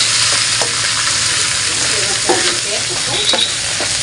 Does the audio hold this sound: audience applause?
no